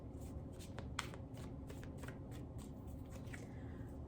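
A deck of tarot cards being shuffled continuously, a rapid dense riffling flutter close up over a steady low background hum.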